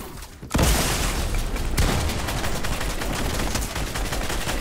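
Gunfire in Fortnite: a sudden loud burst of rapid shots, then continuous crackling fire and impacts that carry on for several seconds, near and dense, with no talk.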